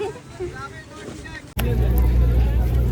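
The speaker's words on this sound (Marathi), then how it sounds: "आमची बोट आलेली आहे आता" A boat's engine roars up loudly near a jetty on an Andaman island trip, coming in abruptly halfway through after muffled voices and wind.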